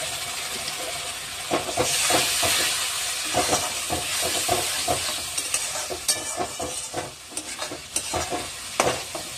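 Spice masala for dum aloo sizzles and hisses in a pan with a splash of water, steady and close, with repeated stirring scrapes throughout and no talking.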